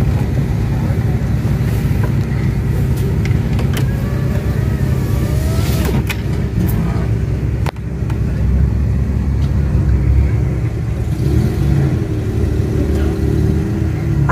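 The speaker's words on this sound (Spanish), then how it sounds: "ahora están moviendo el otro carro." Car traffic on a city street in Zona 1, Guatemala, where a crashed car is being moved: a steady, loud low engine rumble with some revving, a brief thump partway through.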